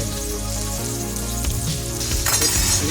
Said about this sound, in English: Just fry for 1 minute as the flame is high.